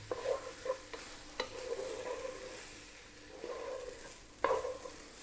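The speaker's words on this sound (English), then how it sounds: "we want to cook this, just stirring it away on this low heat, just for about 3 minutes" Rice being stirred in a pan over low heat for a Bahraini fried fish and sweet rice dish, giving soft repeated scraping strokes with a faint sizzle underneath, quiet and close with no talking.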